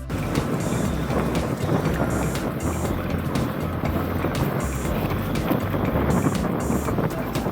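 A steady motor drone with wind buffeting the microphone, a small boat running along the Chambal river, continuous and fairly loud.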